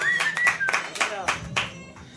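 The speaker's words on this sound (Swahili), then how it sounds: "Pigia Bwana Yesu makofi mazuri." A church congregation at a second Sunday service clapping for Jesus, a few loud uneven bursts of applause mixed with voices calling out over the hall.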